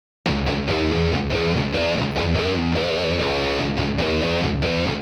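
Stereo electric guitar part with reverb and tape-machine saturation, a dense sustained distorted tone with chord changes and rhythmic strums filling both sides, loud and continuous after a brief silent start.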